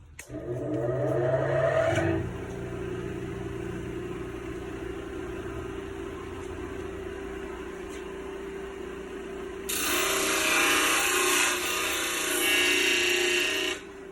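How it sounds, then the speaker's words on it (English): A disc grinder works a rough knife blade, a steady droning whine with grinding rasp against the steel that swells louder and harsher partway through, close and continuous with no talk. "taking all those burrs and everything else that we have and shaping it with the disc grinder"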